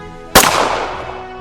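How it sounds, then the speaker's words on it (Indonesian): A single sharp gunshot cracks out loudly, followed by a long echoing decay. "tak berapa lama terdengar bunyi tembakan"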